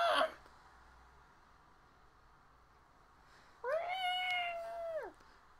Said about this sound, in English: you guys do hear the screaming of Rose, the desperate meowing of Rose